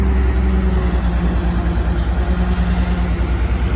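An old excavator engine, restarted after sitting for two years, idles loudly and steadily close by with a deep low drone and a fast even pulsing throb, with no talk.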